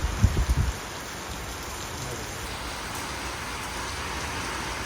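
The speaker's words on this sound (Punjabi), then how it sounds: "ਹੁਣ ਫੇਰ ਸਪੀਡ ਨਾਲ ਹੋ ਗਿਆ ਮੀਂਹ" Steady heavy rain pours without a break, a dense even wash of noise, with a few brief low thumps at the very start.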